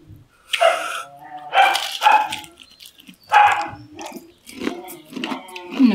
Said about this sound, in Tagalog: Nag-away yung aso natin.